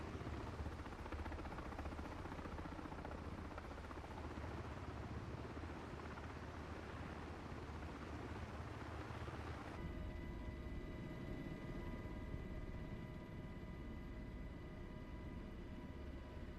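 A simulated MH-60 helicopter hovering in MSFS 2024 gives a loud, unbroken rotor and turbine drone, and a steady tonal whine joins about two-thirds of the way through.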